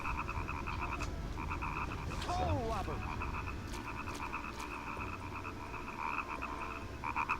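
Frog croaks repeat steadily over a dense game ambience in Nightmare Before Christmas: Oogie's Revenge, with a short warbling sweep partway through and no talking.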